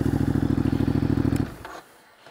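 A motorcycle ridden by a rider standing on the footpegs chugs loudly in a rapid, pulsing engine rhythm, then drops away abruptly into near quiet.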